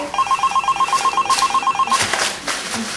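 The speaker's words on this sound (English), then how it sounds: "I told you to turn off your cell phone." A cell phone rings during a newscast, repeating a fast, bright electronic trill pattern for about two seconds. The ring then stops and brief indoor rustling and room noise follow. No one speaks.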